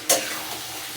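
Spice paste and new potatoes for aloo dum fry in a pan, a sharp stir-and-sizzle burst at the start settling into a steady, soft crackle, close by with no talk.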